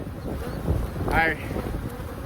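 Honeybees buzz steadily in an open hive during a beekeeper's inspection for queen cells, a close, continuous droning hum that swells briefly in the middle, with faint wind noise.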